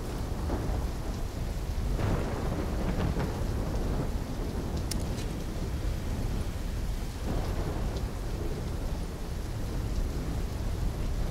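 A thunderstorm in the video game Call of Duty Black Ops 3, steady heavy rain with low rolling thunder rumbles swelling throughout, loud and continuous with no talking.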